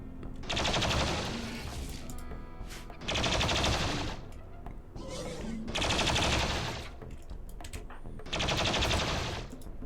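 Bursts of automatic gunfire in the video game Rimworld come in four loud, rapid rattling volleys of about a second each, with short quieter gaps between them.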